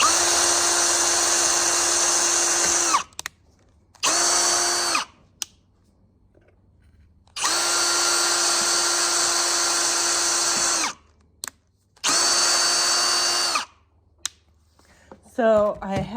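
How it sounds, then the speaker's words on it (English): Power drill driving screws into wood boards, heard in several bursts of steady whirring of a few seconds each, separated by pauses, close and loud, with a few clicks at the end. "And then I'm putting 2 screws on both sides, so that way hopefully it'll stay together a little longer."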